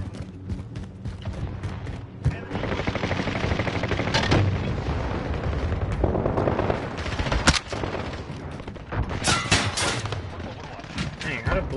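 Gunfire in Call of Duty: Modern Warfare Ground War, with dense bursts of automatic fire and sharp single shots, scattered booms and loud cracks, going on almost nonstop over game noise.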